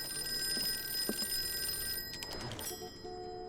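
An old-timey telephone bell rings in the Call of Cthulhu video game, a faint, steady ringing laid over low ambient game sound, broken by a few brief clatters partway through.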